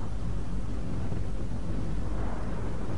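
Low continuous rumbling thunder fills a lightning-charged alien atmosphere in the Mass Effect video game, a steady dense roar with no voices.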